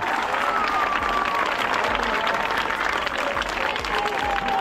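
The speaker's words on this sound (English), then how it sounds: "Please give a louder round of applause as I call on stage Madam Zainab Ataya Kabar" A school assembly audience at Albert Academy in Sierra Leone gives a sustained, loud round of applause as a guest is called on stage; thick, even clapping fills the whole span with faint whistles threaded through.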